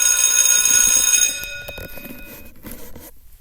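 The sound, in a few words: alarm bell ringing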